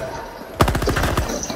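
Rapid automatic gunfire in the Helldivers 2 video game, a sudden loud burst of about eight sharp shots in quick succession after a quiet lead-in, close and punchy.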